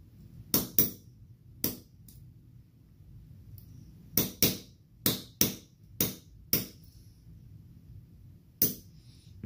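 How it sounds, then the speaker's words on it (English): Sharp metallic hammer taps on a pin punch driving watch band pins on an Invicta Reserve Bolt Zeus Magnum watch, single strikes and quick pairs at uneven intervals, close up against a quiet background. "all three of these are going to get hit by the hammer, pushed in"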